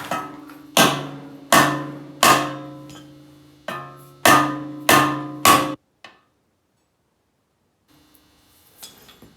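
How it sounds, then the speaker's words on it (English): Dead blow hammer striking metal on an old, neglected John Deere: seven loud, ringing metallic whacks in an uneven rhythm, close up, followed by silence and a faint clink near the end. "I've got a dead blow. See if I can give it a whack there."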